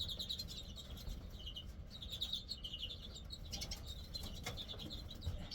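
Small lesser and Mealey redpolls chirp in quick, high bursts while wings flutter and flap nearby, over a steady noisy background, with no voices.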